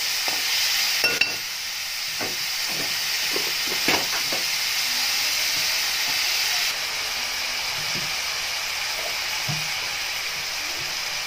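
Curry with turmeric and salt being stirred in a hot pan, a steady close frying sizzle with scraping spoon strokes through the mixture; no one speaks.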